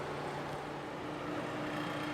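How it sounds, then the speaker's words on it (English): A space heater runs in a garage, a steady broadband roar with a low hum, constant and fairly loud with no breaks. "pardon the noise, the heater's on"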